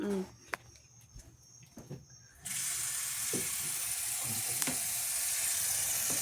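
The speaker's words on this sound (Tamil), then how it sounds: "முளை கட்டின கொண்டக்கடலையை ஓகே கொஞ்சம் தண்ணி ஊற்றி ஊற வச்சுருவோம்" Water poured over sprouted chickpeas to soak in a home kitchen: a few small knocks and taps, then a steady, close rush of pouring water that continues to the end, with no voices.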